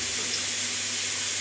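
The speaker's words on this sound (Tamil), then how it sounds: "இப்போ தேவையான அளவு தண்ணி சேர்த்துக்கிறேன்." Water pours steadily into a cooking pot during curry preparation, a short continuous hiss with no talking.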